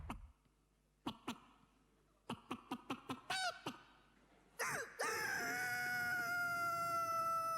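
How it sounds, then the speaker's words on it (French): A hen clucks in a guessing game: a few sharp isolated clicks, then a quick run of short clucks, followed by a loud drawn-out squawking call that holds to the end. "mais ce n'était pas un coq, Stéphane, c'était une poule"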